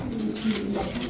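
Lahori pigeons coo steadily and close by in a pen of pigeons kept for sale, with low, throaty, overlapping calls that roll on without a break.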